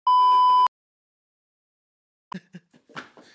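A phone gives one loud, steady electronic beep lasting about half a second, followed by silence and then a few quiet knocks and handling sounds.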